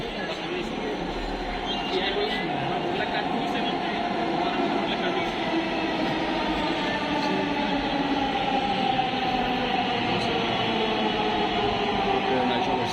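A metro train runs steadily past, a continuous mechanical rumble and hum that stays loud and even throughout, with no clear speech over it.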